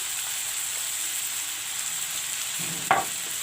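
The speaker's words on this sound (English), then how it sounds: "fry the masalas along with the vegetable" Vegetables for barbatti saag fry with turmeric and chili masala in a pan, a steady close hiss and sizzle running throughout, with one brief clank of a stirring utensil near the end.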